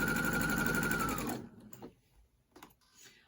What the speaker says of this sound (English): I'm going to sew this a little bit faster